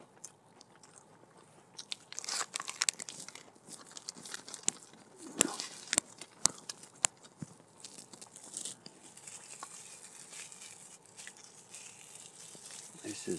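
Someone eating a McDonald's big breakfast with hash brown, close crunchy bites and chewing with sharp crackles and wrapper rustling, spread unevenly through a quiet stretch.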